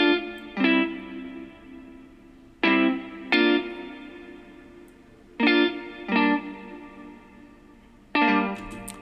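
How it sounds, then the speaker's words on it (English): Jazz guitar chords built with VST instruments, strummed with a staircase effect, ringing out in four separate bursts, each a quick pair of stacked strums that decay between hits, with no talking. "we have these jazz guitars"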